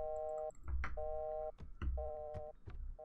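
An in-game telephone rings with a repeating electronic two-tone pattern in short regular bursts, fairly quiet and interrupted by thumps and clatter between the rings.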